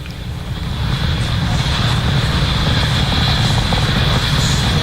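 Rocket engines roar during the launch of the Danuri lunar probe as a continuous, loud, broadband rumble that builds slightly at the start and then holds steady and dense throughout.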